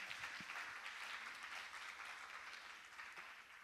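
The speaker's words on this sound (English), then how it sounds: "A well-deserved round of applause for Nandana." Applause from an audience at a Mohiniyattam dance arangetram, a continuous wash of many hands clapping, faint and distant in a large hall.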